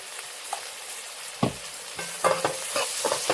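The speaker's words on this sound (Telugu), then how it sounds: "వేసుకొని చక్కగా కలుపుకుంటే ఈ ఉల్లిపాయలు అనేది చక్కగా మగ్గిపోవాలండి" Onions and green chillies fry in a pan with turmeric and salt for a chicken leg masala curry, giving a steady close sizzle broken by several louder spatula scrapes and stirring knocks.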